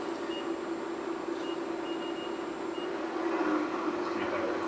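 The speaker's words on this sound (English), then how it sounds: "He's running the spindle." The programmable spindle of a Southwestern Industries ProtoTrak 3-axis CNC vertical mill runs at speed, a steady, fairly faint mechanical hum under constant shop background noise.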